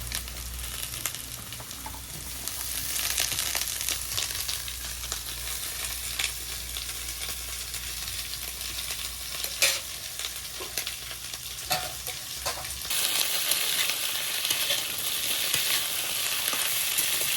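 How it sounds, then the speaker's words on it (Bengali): Drumstick stems and potatoes fry in a pan, a continuous loud sizzle with occasional scraping stirs. The hiss brightens and intensifies near the end. "ডাঁটা দিয়েও একটু ভেজে নিলাম।"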